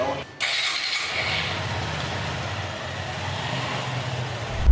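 A second-hand Suzuki Gixxer FI ABS motorcycle runs nearby, holding a steady engine drone that swells louder at the very end.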